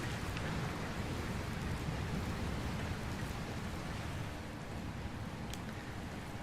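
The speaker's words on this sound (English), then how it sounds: "Where did this rain come from?" Steady heavy rain pours in Dragon Quest Builders 2, a dense continuous hiss at close range with no voices, holding even throughout.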